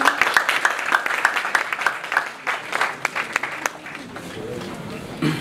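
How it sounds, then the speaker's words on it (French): Audience applause for Madame Adèle Esso, director of the local employment mission of Saint-Josse, at a job forum: dense clapping that is loud at first and slowly thins out, with some voices mixed in. "Je vous prie de bien vouloir l'applaudir"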